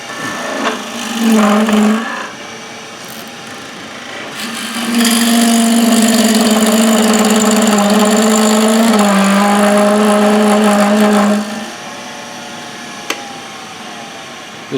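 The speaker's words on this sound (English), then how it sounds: "lathe is really under power, I can't really take the depth of cut that I would ordinarily take" An underpowered wood lathe spins a bowl blank while a bowl gouge cuts it, a loud sustained rasping hum with a short cut at the start, then a long steady cut before the motor idles on.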